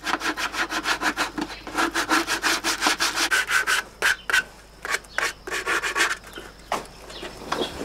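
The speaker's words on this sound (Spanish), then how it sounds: "consigue la forma definitiva de la jarra con el pulido de la" Sandpaper rubs back and forth over a handmade wooden jug, a close rhythmic scratching of quick regular strokes that slows into more spaced, uneven passes, with no talk.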